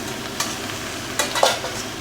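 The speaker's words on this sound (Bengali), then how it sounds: "এবার এই যেটা ভাজা করব, এতে চিংড়ি মাছটা আরও ভাজা হয়ে যাবে।" Shrimp frying with greens stems in a pan, a soft continuous sizzle broken by a few scraping stirs of the spatula, close and fairly quiet with no talking.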